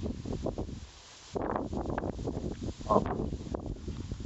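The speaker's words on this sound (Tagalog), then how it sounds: "Sobrang lakas ng hangin oh." Strong wind buffets the microphone over a broadcast-seeded SL-39H hybrid rice field, a steady roaring rush with gusty surges, and a brief exclamation from a person.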